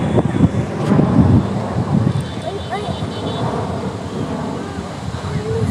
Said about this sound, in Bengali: দেখেন বাতাসটা আবার বেড়ে গেছে।